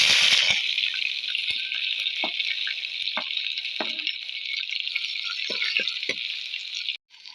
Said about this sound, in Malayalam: അപ്പോൾ നമ്മുടെ കടു പൊട്ടാൻ തുടങ്ങിയിട്ടുണ്ട്.